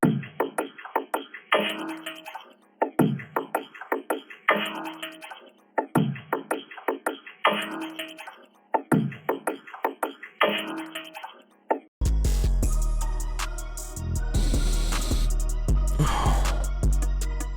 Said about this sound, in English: for the last thing, we got a percussion loop